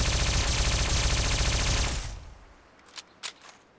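A three-barrelled Fusion Core modded gun in Fallout 4 fires a rapid, loud stream of shots for about two seconds, then cuts off, leaving a quiet tail with a couple of short mechanical clicks.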